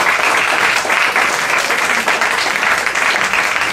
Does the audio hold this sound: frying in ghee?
no